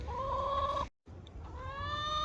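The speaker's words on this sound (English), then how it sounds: "she's a very loud chicken" A loud hen in a backyard flock clucks and calls at close range, two drawn-out squawking bursts separated by a brief silent gap.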